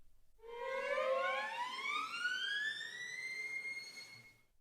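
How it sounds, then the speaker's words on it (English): A single violin note slides smoothly upward in a long, rising glissando, sustained and alone. "First, a glissando."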